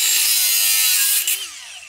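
An angle grinder cuts through steel with a loud, harsh high-pitched whine that holds steady, then tails off as the disc spins down near the end.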